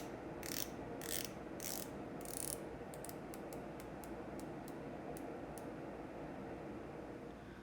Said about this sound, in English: The 120 click bezel action is loud and solid and has no backplay.